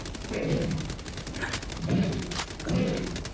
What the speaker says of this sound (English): It's just funny hearing all the gunfire in the distance.